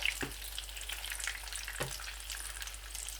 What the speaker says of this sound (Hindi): यूँ ही टिक्कियाँ सारी फ्राई होती हैं